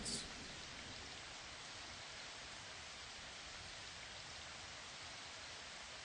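A steady, calming rainstorm hisses continuously at an even level, with dense rainfall and no distinct drops or thunder standing out.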